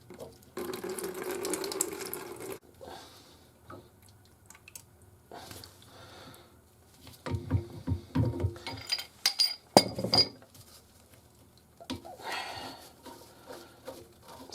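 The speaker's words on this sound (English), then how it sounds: "So there's actually a lot of water in this trap right here." Water drains from a sink trap under a sink, with intermittent splashing and trickling into a container, mixed with clinks and knocks of pipe parts, close and fairly quiet.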